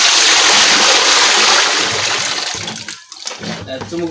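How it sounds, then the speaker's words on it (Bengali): Cattle feed being mixed with water for fattening cows: loud sloshing and splashing churn up close, easing off near the end, while people talk over it. "এখন খাদ্যটা মিক্স করা হচ্ছে"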